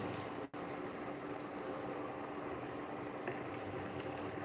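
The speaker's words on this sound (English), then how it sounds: "We're going to leave it to boil beneath." A corn powder mixture boils in a pot on a stove, a steady close bubbling and simmering hiss that runs throughout with no voices, broken by one brief dropout near the start.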